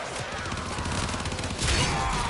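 A Talons weapon firing in a video game: a dense, continuous wash of rapid shots and impacts, loud throughout, swelling slightly near the end.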